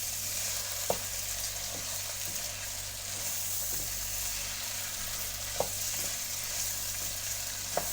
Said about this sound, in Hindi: आलू हमारा आप देख सकते हैं इसी तरह से फ्राई हो रहा है।